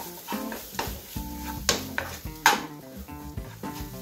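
A spoon stirs garam masala and chilli powder into a leftover rice cutlet mixture in a pan, giving close clinks and scrapes against the metal with a faint sizzle and soft tonal music underneath.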